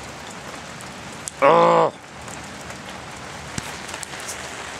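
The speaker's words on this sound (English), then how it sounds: "yes, it is still raining" Steady rain patters on surfaces, a soft continuous hiss throughout, briefly interrupted by a short loud exclaiming voice.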